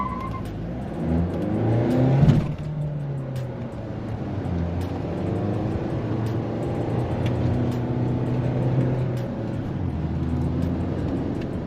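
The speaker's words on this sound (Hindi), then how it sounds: "यहाँ से पहले कार को आपको मैं लॉन्च करके दिखाता हूँ। Raving till 3000 RPM" Mahindra XUV700 diesel SUV launching from a standstill on a main road, the engine climbing toward 3000 RPM with a loud sustained revving drone that rises and holds steady, heard from inside the cabin with no talking.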